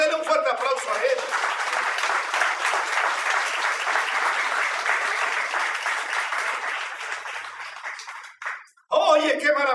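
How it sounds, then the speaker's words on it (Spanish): A church congregation at a morning service claps in sustained, even applause that tapers off near the end before a voice speaks. "Dele un fuerte aplauso a Él."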